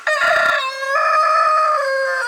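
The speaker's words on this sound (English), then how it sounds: "we have Foghorn Leghorn is one of our roosters, and of course then we have Goliath" Rooster crowing loudly and close, one long drawn-out cock-a-doodle-doo with a sharp opening rising into a sustained, strained call.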